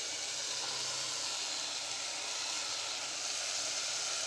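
Papdi beans sizzling in hot oil in a pan for Surati-style papdi shak, a steady, fairly soft hiss of frying that holds evenly throughout with no talk.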